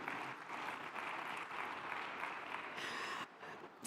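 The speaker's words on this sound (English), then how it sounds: "I think another round of applause for our panel would be quite appropriate" Faint, distant applause from an audience at a world smart cities forum for the panel, a continuous wash of clapping that briefly dips and resumes near the end.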